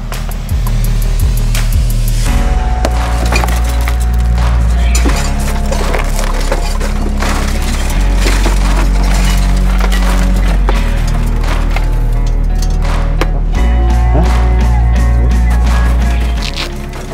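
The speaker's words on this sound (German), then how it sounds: "Angriffstrupp macht jetzt die Scheiben auf, um den unkontrollierten Glasbruch zu vermeiden." Firefighters in a rescue exercise deliberately breaking out car window glass: loud cracking, crunching and splintering of glass with repeated impacts and a harsh grinding roar underneath, continuous and close.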